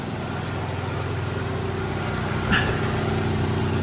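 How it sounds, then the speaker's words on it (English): An idling car engine with an exhaust leak putters steadily with a rhythmic, pulsing exhaust chuff, close by, with a brief higher hiss partway through. "straight away I could hear an exhaust blow"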